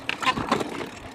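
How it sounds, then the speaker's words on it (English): A vehicle's underside scrapes and thumps against the road as it bottoms out on an uneven surface, a few short rough knocks and grinding scrapes, fairly close and moderately loud. "we bottomed out again."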